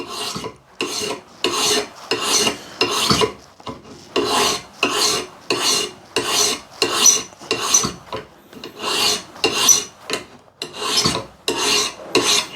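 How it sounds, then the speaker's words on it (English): Hand file rasping across a metal graver in regular push strokes, about a dozen loud, even scrapes each lasting roughly half a second, separated by short silent gaps as the file returns, with no talk. "when you're filing, it's the push stroke only"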